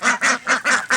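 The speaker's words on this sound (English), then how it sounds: "These 7 crazy quackers are trying to tell me they think they're hungry." Seven young farm ducks quacking loudly and close, five rapid rhythmic quacks in about a second, no voices.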